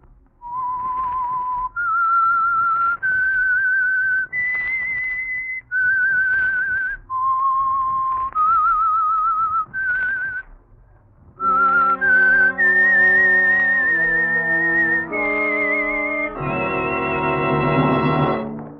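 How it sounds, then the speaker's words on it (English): Solo human whistling of a slow, eerie melody serving as the theme of the Signal Oil radio mystery program The Whistler, clear and close, followed by sustained orchestral chords joining the tune. "That whistle is your signal for the Signal Oil Program, The Whistler."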